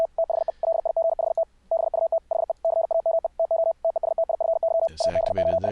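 Continuous-wave Morse code sent by hand keying comes through as a clean, steady single-pitch tone broken into short and long beeps at a brisk rhythm, with a brief burst of garbled noise near the end.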